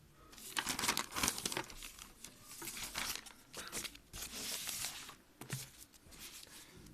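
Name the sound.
paper being handled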